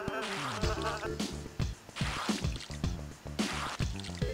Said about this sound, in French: Regardez ce tourbillon de mouches à l'intérieur de ma douche.